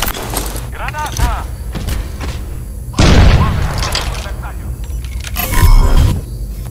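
Grenade blast in Crysis 2 lands as a loud, sudden boom with a rumbling tail, followed by a second heavy thump, while game voices speak around the explosions.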